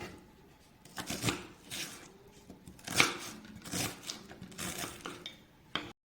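A knife chops onions on a board in a series of irregular crisp cuts and knocks, moderately close, with brief pauses between strokes.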